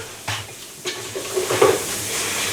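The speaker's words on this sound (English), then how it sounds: "Now I'm just going to go ahead and stir this up just a little bit here." Creamy chicken with garlic and parmesan stirred as it sautés in an Instant Pot, soft sizzle under a few scraping spoon strokes and light clinks, fairly close and steady.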